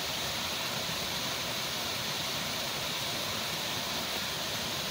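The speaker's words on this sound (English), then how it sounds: "the waterfall." A waterfall heard from a viewpoint, a steady broadband rush of falling water that stays constant and fairly soft throughout, with no voices over it.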